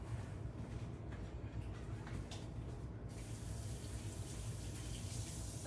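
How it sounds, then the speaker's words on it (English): Tap water runs steadily into a kitchen sink as hands are washed before cooking, a soft, even, continuous stream heard alone at low level. "Let me wash my hands so we can get started."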